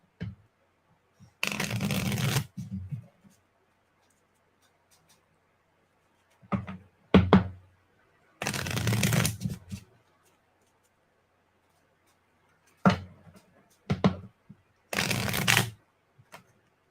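Several bursts of HeroQuest artifact cards being riffled and shuffled close by, in quick flurries separated by short pauses of quiet.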